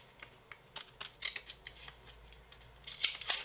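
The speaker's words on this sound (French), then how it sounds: "Ils sont trop gros ces ciseaux. Hein, et là, on va couper tout droit jusqu'en bas." Large scissors cut straight down through paper: a series of crisp, close snipping and rustling strokes in an uneven rhythm, fairly quiet and with no talk.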